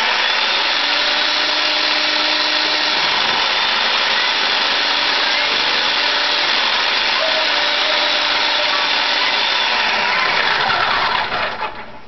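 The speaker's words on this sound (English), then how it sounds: "Now with this food processor, I always get the bottoms of the bars, so I'm just going to take those out" A food processor grating leftover bar-soap ends for homemade powdered laundry detergent, giving a loud, continuous whirring motor roar with rattling chunks that winds down at the end; no talking.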